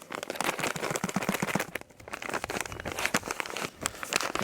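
A paper bag of dry malt extract is torn open for home brewing, with loud continuous crinkling and ripping close up for several seconds, briefly easing midway before resuming.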